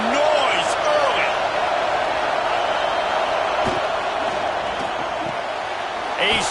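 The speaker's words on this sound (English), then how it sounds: "This crowd bringing the energy and noise early." Steady roar of a stadium crowd in a college football video game, Nebraska at Florida State, sustained and fairly loud throughout with brief louder swells, while a commentator's voice talks over it.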